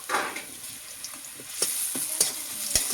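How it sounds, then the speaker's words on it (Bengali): Garlic paste frying in a pan, its steady sizzle broken by several sharp scrapes and knocks of a spoon as it is stirred, close and fairly loud, with no voices. "রসুন বাটাটা একটু নেড়ে চেড়ে নেবো।"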